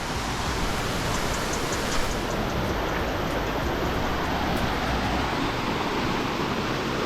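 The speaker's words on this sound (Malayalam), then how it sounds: "ആ വാട്ടർഫാളിൽ നിന്ന് വരുന്ന വെള്ളമാണ് കേട്ടോ. നല്ല ഹൈ പവറിലാണ് വെള്ളം പോകുന്നത്" Water from Aanakulam waterfall rushes past with great force, a loud, continuous roar that holds steady throughout with no voices over it.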